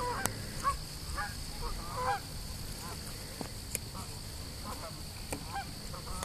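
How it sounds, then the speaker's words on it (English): Geese or ducks honking repeatedly at a distance over a beach as they come in to land, scattered calls over a steady outdoor background with faint voices. "Where did you get the ducks coming in for the landing?"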